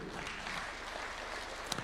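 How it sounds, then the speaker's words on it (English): Applause rises for a Kenyan Tokyo Olympic champion at a presidential breakfast, a steady, moderately quiet wash of clapping lasting under two seconds with a couple of sharper claps near the end. "Clap for him"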